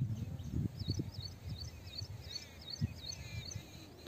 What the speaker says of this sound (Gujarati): પક્ષીઓના પણ એકદમ સરસ અવાજ આવી રહ્યા છે